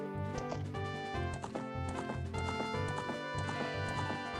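Horses gallop across Hyrule Field in an Ocarina of Time romhack, with rhythmic clip-clop hoofbeats under steady game music throughout.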